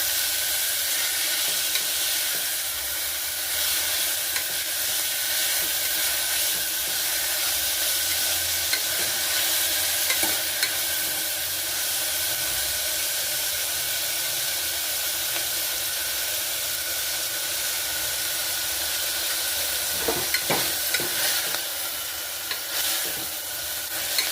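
Fenugreek leaves sizzling and frying steadily in a hot pan, a dense continuous hiss with occasional faint stirring clicks, close and even throughout with no voices.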